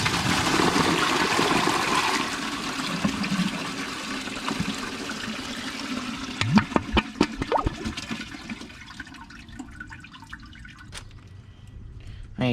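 A Kohler Highline toilet with a bucket tank, filled a little over half, flushes 20 rubber ducks. A loud rushing surge of water fades into gurgling drips and trickles as the tank refills.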